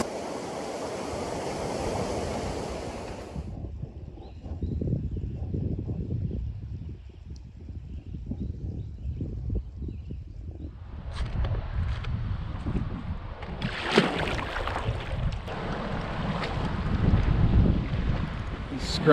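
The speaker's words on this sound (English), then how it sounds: "You can hear me over the wind and the water." Rushing water from low-water rapids on the Spanish River, mixed with heavy gusting wind buffeting the microphone. The roar is loud and continuous, easing briefly before building again toward the end.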